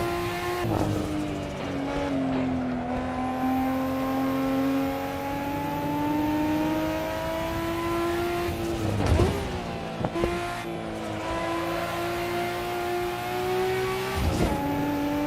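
An old-school race car with a 5-speed H-pattern gearbox drives the Nordschleife in Assetto Corsa. The engine holds a loud, sustained drone that slowly rises and dips in pitch, broken by sharp shift or backfire cracks near the middle and the end.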